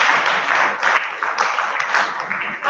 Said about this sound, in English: She's a round of applause for her again.